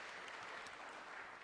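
A church congregation applauds during a Sunday service, steady, dense clapping heard from a distance at low level with no pauses.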